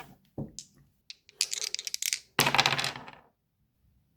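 A six-sided and a twelve-sided die rattle and clatter as they're rolled, a few sharp clicks followed by two bursts of tumbling on a hard surface, close and fairly loud, then silence.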